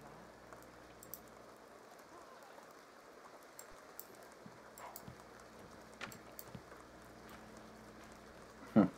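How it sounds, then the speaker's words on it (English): Rain falling in The Sims 2 as a faint, steady patter with occasional soft drop sounds, low in level, with a brief louder noise near the end. "Look, it's raining."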